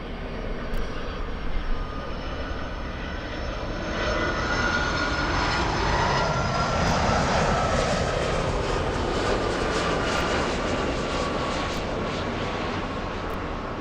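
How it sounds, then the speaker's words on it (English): United Airlines Boeing 757-200 jetliner arriving at Los Angeles International Airport from Newark; a loud, continuous engine roar swells from about four seconds on and stays strong and steady to the end, with no talk over it. "We have United Airlines 432, a 757. This is a 200 flying in from Newark."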